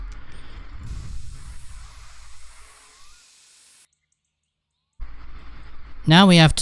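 Spray painting a car in the game My Summer Car: a steady airy hiss of the spray gun runs for several seconds, drops to silence, then resumes, with a voice briefly talking near the end.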